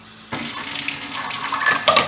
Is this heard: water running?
yes